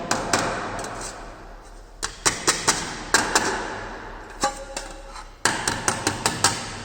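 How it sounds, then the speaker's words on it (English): A mallet strikes a sheet metal workpiece in quick clustered bursts of sharp close taps, several rapid blows in a row separated by brief pauses. "By the help of this mallet, you can just strike on your workpiece"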